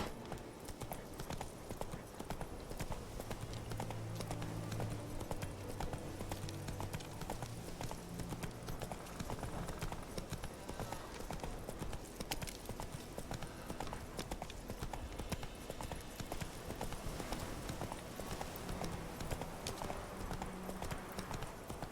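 Horse hooves clip-clop steadily in The Witcher 3 video game, a continuous rhythmic trot heard fairly faintly beneath a dense wash of background game ambience.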